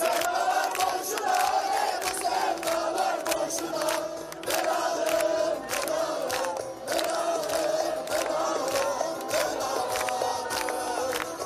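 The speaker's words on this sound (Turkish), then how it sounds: "Diyarbakırlı gençler Kürtçe tezahüratla sevgi gösterisinde bulundu" Young people in Diyarbakır chanting rhythmic cheers in Kurdish, a loud crowd of voices shouting together in repeated bursts with clapping mixed in.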